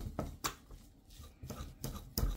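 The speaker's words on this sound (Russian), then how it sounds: "вилочкой вот так вот все перетираем" A fork mashes cottage cheese in a bowl, giving a few soft, close scraping and tapping strokes at an uneven pace, quiet and without talk.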